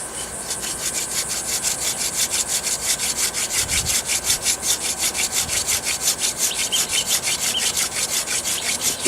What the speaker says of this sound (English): See the flat spot? Doesn't take much. Just sand it down.